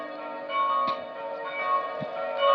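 A bell rings out a sustained, shimmering tone that lingers evenly and is fairly faint, with a couple of soft knocks in the background and no talk.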